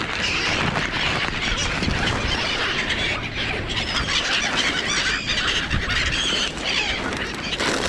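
Gulls squawk and call repeatedly in a shopping center parking lot, a dense and fairly loud outdoor chorus of overlapping cries over steady background noise.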